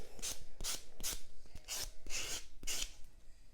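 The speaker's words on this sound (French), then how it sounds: "c'est de prendre un bloc ponce, comme ceci, et de le passer sur la surface de l'ongle afin d'éliminer toute trace de lime" A pumice block is rubbed over the surface of a natural fingernail in quick, close rasping strokes, about seven of them in a steady back-and-forth rhythm.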